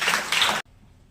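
A class of students at a coaching centre claps together in a brief, loud burst of applause that stops abruptly.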